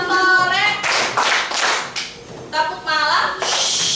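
Children clap in a classroom game, sharp hand claps arriving in short rhythmic bursts with brief pauses between groups, loud and close, with voices mixed in at points.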